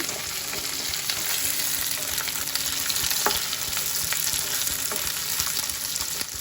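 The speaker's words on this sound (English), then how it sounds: "Now I'm going to add the capsicums. So there we go, capsicum. Let's saute them." Capsicums sauté in a hot pan for home-style chilly chicken, giving a constant close, loud sizzle with occasional scrapes and stirring clicks throughout, and no talking.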